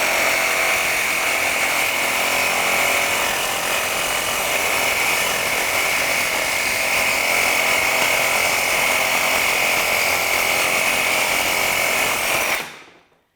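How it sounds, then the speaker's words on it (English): A power tool, likely an impact driver or drill, runs continuously at close range while fasteners come out of the crankcase of a failed Porsche 997 C4S M97 engine, a steady loud whine ending abruptly. "now we're going to pull a couple fasteners out and dump out the debris field from that bank one"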